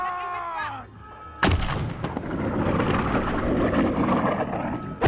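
Gunfire in Call of Duty Modern Warfare during the Proxy War mission: a sudden loud blast, then sustained dense shooting and rumbling explosions, with a brief voice-like tone before it.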